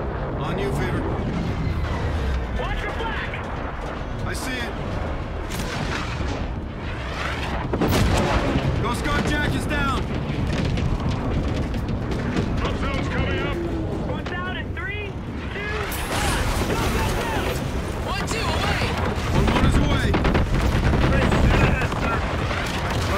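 Heavy gunfire and booming blasts roll through a Call of Duty: Infinite Warfare battle during covering fire, dense and continuous for over twenty seconds, with radio-style voices talking over the din.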